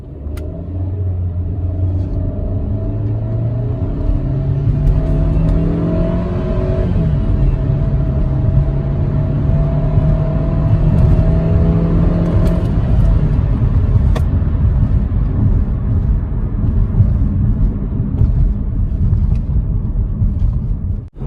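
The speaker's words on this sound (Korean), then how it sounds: "그러면은 가속 한번 해볼게요." A 2017 SsangYong Tivoli Air RX gasoline car accelerates hard, heard from inside the cabin, its engine note rising through several gear steps over steady road rumble, loud and continuous with no talk.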